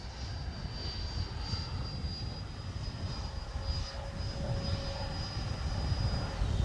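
Freewing F-22 90mm electric ducted-fan RC jet taking off, a steady rushing fan roar with a thin high whine, continuous and moderately close, outdoors with wind noise.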